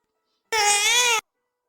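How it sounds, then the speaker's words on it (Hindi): A baby cries in one short, loud, wavering wail of under a second, heard alone with silence before and after. "मुझे लगता है सुनाई दे रहा है बच्चे के रोने की आवाज"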